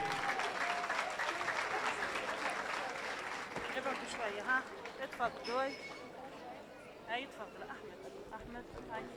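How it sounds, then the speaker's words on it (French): Sustained audience applause at an end-of-year graduation ceremony at Espita, steady clapping from a crowd with a host's voice and some chatter rising over it toward the end. "On les applaudit bien fort,"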